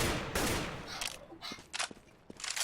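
AK-47 burst fire in the video game CS:GO, several quick rattling bursts of gunfire separated by short pauses, at moderate level with an initial noisy wash.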